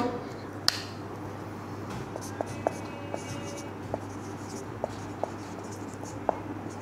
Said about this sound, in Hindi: तो सबसे पहले लिखते हैं हम लोग